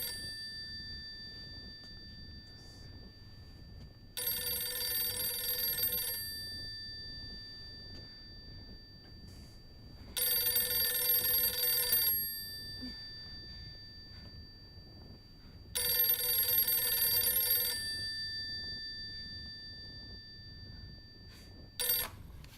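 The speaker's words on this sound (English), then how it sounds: "Oh yes, the extremely loud phone." A very loud telephone in Silent Hill f rings in three long bursts spaced several seconds apart, each a harsh metallic bell trill, with near silence between them.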